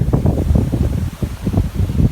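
Strong seaside wind buffets the microphone in a dense, low roar that swells and dips in gusts, loud and close, with no voices over it.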